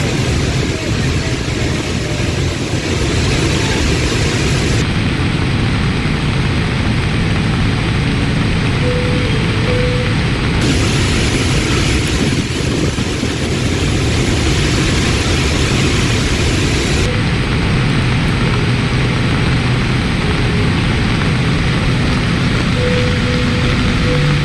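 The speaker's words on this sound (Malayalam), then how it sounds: "ശക്തമായ മഴയിൽ നിറഞ്ഞൊഴുകുകയാണ് അതിരപ്പള്ളി വെള്ളച്ചാട്ടം" Athirappilly waterfall in Kerala, swollen and overflowing after heavy monsoon rain, gives a constant, loud broadband roar of rushing water that fills the whole stretch without a break.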